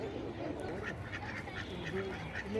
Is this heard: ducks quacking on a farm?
yes